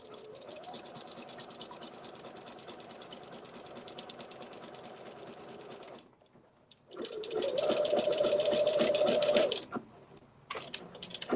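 A sewing machine stitches through a quilt in a fast, even mechanical whir. It runs for about six seconds, pauses, then starts again louder and runs for a couple of seconds before stopping briefly and restarting.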